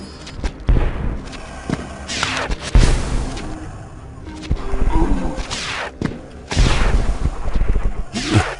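Rockets fire and explode in the video game Terraria, giving sharp, loud blasts in several bursts, each trailing off into crackling debris, with quieter gaps between them.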